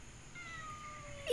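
A stray cat gives a single soft, drawn-out meow, faint and close, with a louder sound at the very end.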